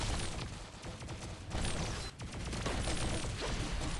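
A cluster weapon fires in the mobile shooter Pixel Gun 3D, setting off a dense, crackling string of rapid explosions that carries on across the whole stretch, with a brief dip in the middle before the volley resumes.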